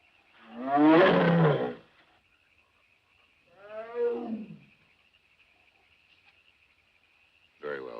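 A tiger gives deep, rumbling roars in a wild setting: one long, loud roar, a shorter one a couple of seconds later, then the start of another, with a thin high insect-like hum running beneath.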